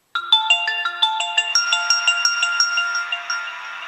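An HTC EVO 4G phone running FreedomPop Android plays its startup sound while booting: a bright electronic melody of quick, evenly spaced chiming notes that overlap into a ringing wash, heard close and alone.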